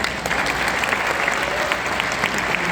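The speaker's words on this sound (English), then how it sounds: "I want you to give yourselves a round of applause." Steady, dense applause from a large audience at a California Teachers Association speech event, continuous and loud with no pauses.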